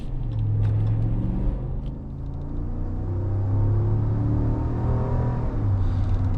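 A 2020 Ram 1500 Bighorn pickup with a 5.7-liter HEMI V8 accelerates hard with wheel spin: a deep, loud engine drone with rising harmonic tones and a brief dip before the roar builds again.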